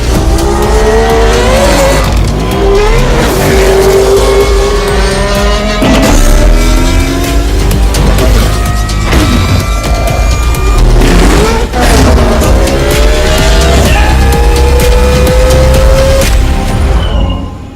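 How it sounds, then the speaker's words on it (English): Mercedes-AMG Project ONE hypercar driving, with loud engine revs rising and falling through repeated accelerations and gear changes, close and powerful throughout. "the best car from the Frankfurt Auto Show, by far, is the Mercedes-AMG Project ONE."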